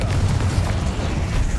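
Incendio fire spell cast in Hogwarts Legacy: a loud, dense, steady roar of flame with a heavy low-end rumble, sustained throughout with no talking.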